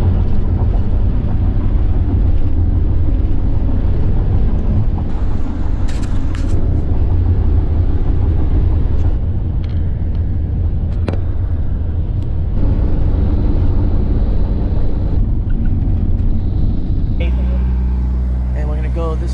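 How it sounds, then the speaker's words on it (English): Inside a car on a long drive across Kazakhstan, steady low road and engine rumble fills the cabin throughout, with brief clicks and rattles and a shift in tone near the end. "Been driving about 3 hours now"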